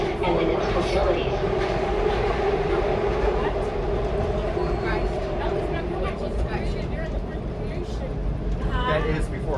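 A SEPTA MF Line subway train riding from 63rd Street to 11th Street, a continuous rumbling roar with rattling and squealing, passengers chatting over it throughout.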